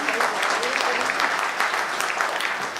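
Audience applause at a chamber of commerce conclave in Goa, a dense, sustained round of clapping from a large room welcoming a guest onto the stage, steady and fairly loud throughout.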